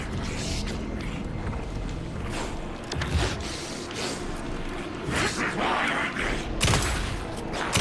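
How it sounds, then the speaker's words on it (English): Gunfire rattles in a tense firefight in the video game Alan Wake 2, with bursts of shots and booms mixed with mechanical clanks and voices calling out. "Anderson, pin him down with gunfire for me to get the light on him."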